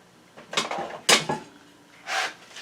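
A vegetable medley being stirred in a bowl gives three short clattering scrapes of a utensil against the dish, close and fairly soft, with quiet gaps between.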